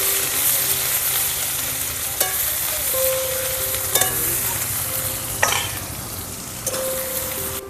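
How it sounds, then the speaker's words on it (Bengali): Garlic cloves and a bay leaf fry in hot oil in a pan, a steady crackling sizzle broken every second or so by the scrape of stirring, with no one talking. "আমি এর মধ্যে দিয়ে দেব একটা তেজপাতা, আর দেব রসুন ফোড়ন। রসুনটাকে একটু লালচে করে ভেজে নেব।"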